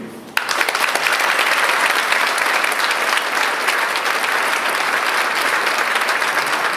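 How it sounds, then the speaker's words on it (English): Sustained, dense applause from a Chamber of Commerce audience honouring Regina's city councillors at the mayor's year-in-review, starting abruptly and holding steady throughout. "They deserve a great round of applause."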